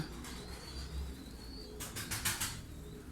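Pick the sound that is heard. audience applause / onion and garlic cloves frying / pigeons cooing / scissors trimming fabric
pigeons cooing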